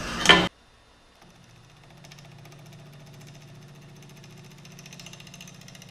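A woodturning lathe trimming a wooden hollow form, giving a low steady motor hum with faint ticking after a brief loud burst at the start, fairly quiet and close, with no talking.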